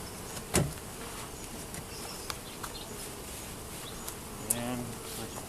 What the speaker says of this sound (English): They're keeping busy, doing well.